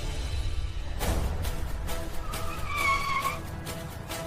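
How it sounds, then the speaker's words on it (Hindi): Road traffic with cars driving past, a constant engine rumble and whoosh with brief tire squeals and a passing horn-like tone, moderately loud and continuous. "यार बहुत ट्रैफिक है यहाँ पे।"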